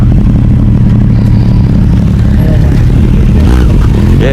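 A group of about eight motorcycles on offroad trails near Tumakuru rumble and drone steadily nearby, loud and continuous, with a slight rise in revving toward the end.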